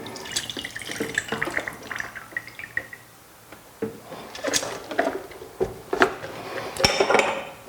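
Water gurgles and splashes through the wand and hose of an Actisol machine as it is backflushed, with irregular drips, knocks and sloshing bursts close by and a brief quieter stretch in the middle.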